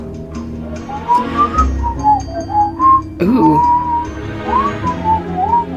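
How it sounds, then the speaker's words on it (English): A jaunty, wavering melodic whistle in the game Choices, a single tune rising and falling over a low ambient drone, loud and reverberant as though echoing, with a short vocal exclamation partway through. "I don't like that whistling."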